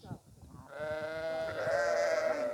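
Lambs bleat in a sustained, wavering cry close by on a farm, with a short voice and rustling just before.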